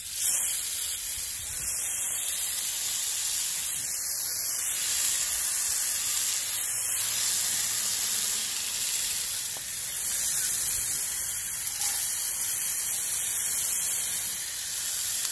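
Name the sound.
water hose rinsing HVAC condenser coils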